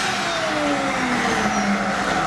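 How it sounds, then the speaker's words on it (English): A vacuum cleaner runs steadily while foam is stuffed into a cushion, its motor a continuous loud whine with a slowly shifting pitch, close by and with no voices. "As soon as the foam is fully in, then you will turn off your vacuum."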